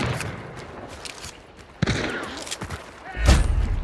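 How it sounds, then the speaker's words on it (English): Gunfire in the video game Hunt: Showdown: a sharp shot cracks mid-clip and a heavier, bass-laden blast follows near the end, over a low background of game ambience. "He's firing at me."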